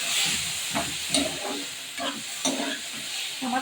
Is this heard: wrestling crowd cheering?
no